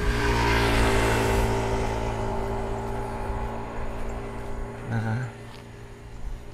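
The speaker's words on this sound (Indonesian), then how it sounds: "Sepi, masih 1-2 motor yang lewat." A motorcycle passes on a quiet early-morning street in Sambas, its engine loud and close at first before fading into a distant hum, ending with a brief nearby rumble.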